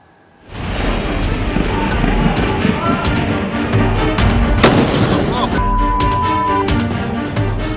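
Loud, dense rumbling blasts and sharp cracks go off in rapid succession at a military ammunition depot as about 160,000 expired rounds explode, a continuous barrage with a few louder bangs standing out.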